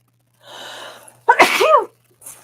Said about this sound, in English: I feel like I gotta sneeze.